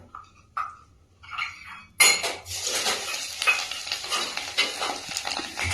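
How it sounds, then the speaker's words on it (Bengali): Battered cauliflower pakoras sizzle as they are slipped one by one into hot mustard oil, a close, steady crackle of frying with occasional clinks of utensils against the pan after a few quieter handling sounds. "আমি আস্তে আস্তে এই মাখানো ফুলকপিগুলোকে তেলে ছেড়ে দেবো।"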